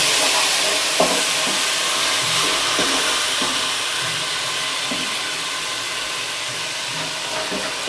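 Onion, ginger and tomatoes fry in a pan with a steady, hissing sizzle, broken by a few soft clinks and stirring scrapes, while the sizzle settles slightly quieter toward the end.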